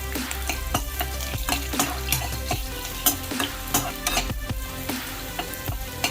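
Whole spices, including cloves, are dry-roasted in a pan over a low gas flame for a Malvani curry, with rapid, repeated scraping and tossing clatter over a constant crackling background, close and fairly loud.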